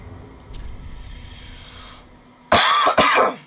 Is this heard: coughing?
yes